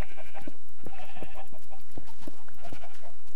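Sheep in the video game Minecraft bleat repeatedly, several loud, close calls over a background of thudding hits and game noise, with no talking.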